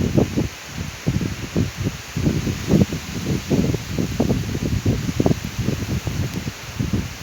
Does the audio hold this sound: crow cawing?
no